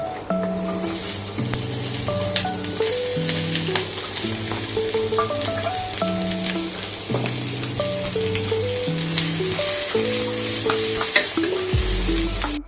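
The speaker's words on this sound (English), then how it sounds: "Stir fry the bawang besar." Chopped onions stir-fry in a pan for a luncheon meat and shiitake mushroom dish. A steady sizzle with stirring runs the whole time beneath loud, continuous background music.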